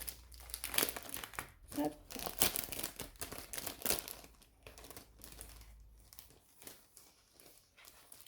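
Crinkly crumpling of plastic packaging being opened around Ferry brand cotton embroidery thread, close and continuous with sharp rustles and a few tearing bits, a brief spoken word at one point.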